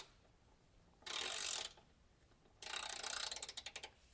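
Ratchet wrench loosening an 11mm bolt on an Indian Challenger motorcycle: two loud bursts of rapid pawl clicking, the second ending in a run of distinct separate clicks, with a quiet pause between them.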